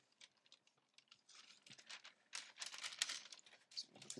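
A paper cutter trims a large sheet of vellum down to size, giving quiet, uneven scraping and crisp slicing sounds that build into a steadier, denser cut toward the end, heard alone and fairly close.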